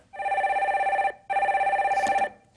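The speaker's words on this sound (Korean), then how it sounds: "전화 연결해 주세요." A telephone rings twice in steady electronic trills, each about a second long with a brief gap, loud and close as a caller's line connects on a live broadcast.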